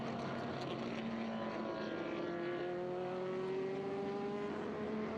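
A 1965 Shelby GT350 vintage race car runs at speed during a qualifying session, its engine a steady, loud drone with a slowly rising pitch and no voices over it.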